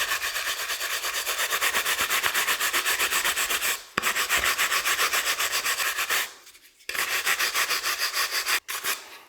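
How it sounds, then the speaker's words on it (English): A drill-mounted polishing brush buffs wax on a turned chestnut-finished wood piece, producing a steady, loud, rapidly pulsing rubbing whir that pauses briefly twice and resumes. "So start buffing up like this."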